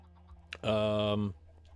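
A chicken on a Minecraft-style game server gives a single drawn-out squawking cluck, loud and close, with quiet background sound around it.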